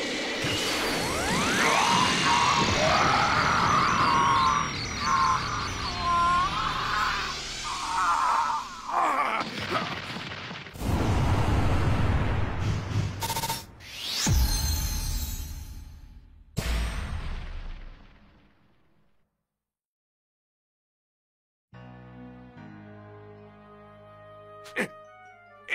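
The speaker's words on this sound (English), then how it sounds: "Special beam cannon!" Piccolo's Special Beam Cannon attack from Dragon Ball Z: swirling, sweeping energy tones build up loudly, then give way to heavy crashing bursts and impacts before dropping to near silence and a final thin ringing tail.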